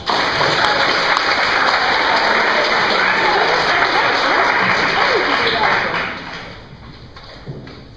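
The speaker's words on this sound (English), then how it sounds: "Give her a big round of applause." Audience applause for a speaker about to talk about life on a rural family farm where the blacktop ends, a dense steady crowd clapping that stays loud, then thins and fades over the last couple of seconds.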